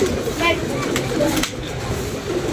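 Pigeons cooing softly nearby in short murmuring phrases, faint against background room noise.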